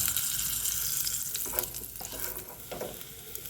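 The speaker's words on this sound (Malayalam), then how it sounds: "വെളിച്ചെണ്ണ ഒഴിക്കാം." Coconut oil sizzles in a pan for a Kerala egg curry, a steady, close frying hiss broken by a few brief stirring scrapes, with no talking.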